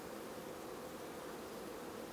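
Honey bees buzz on an open hive frame during a swarm inspection, a dense, even hum heard close and alone.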